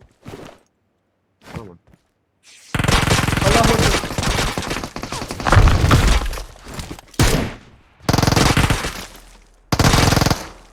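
Bursts of automatic gunfire in PUBG Mobile, loud and close, coming in several sustained volleys with short gaps between them, while players talk over voice chat in the quieter stretches.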